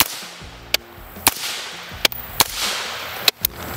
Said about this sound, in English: Let's take a couple of shots here. Just 62 grain green tip.